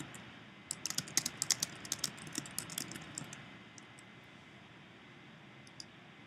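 Quiet, rapid clicking of keys on a computer keyboard in short bursts, tapering off into near silence with a faint background hiss.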